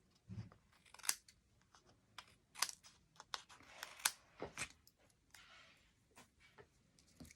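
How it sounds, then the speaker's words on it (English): Scissors trimming paper card, a string of crisp snips and cuts at irregular spacing, close and quiet with no talk. "I'm going to go down here and trim this one."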